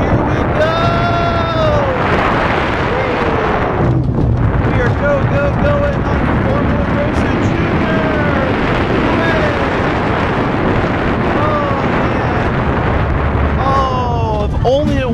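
Riders on the Formula Rosa Junior roller coaster at Ferrari World Abu Dhabi, a Formula-themed ride, with continuous loud rushing wind and rumble throughout, excited screams and voices layered over it.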